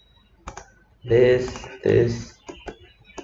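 Shift key and mouse clicks while marking seams in Blender: a few sharp, close clicks spaced apart, with a voice heard between them.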